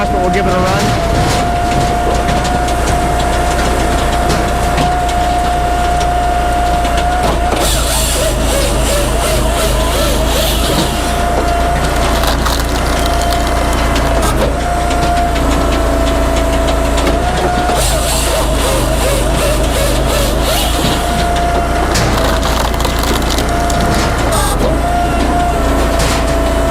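Brute Force 16-24 firewood processor on an extended deck cutting and splitting a knotty log, a loud continuous engine and hydraulic drone with a steady whine and bumpy mechanical clatter throughout.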